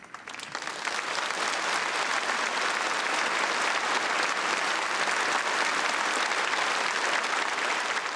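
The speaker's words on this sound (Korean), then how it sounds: "우리 다시 한번 축하의 박수를 보내줍시다" An audience at a children's union stage performance bursts into applause, a thick, sustained wash of clapping that rises quickly and holds steady for several seconds.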